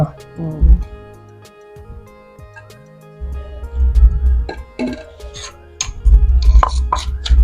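Papaya salad with shrimp, shellfish and squid pounded in a mortar, heavy thuds repeating in uneven bursts, close and loud, with clatter between strikes and people talking over it.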